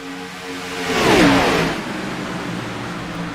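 A race car in a superspeedway racing video game accelerates out of the pits, its engine note climbing and swelling as it passes close by, then settling into a steady drone.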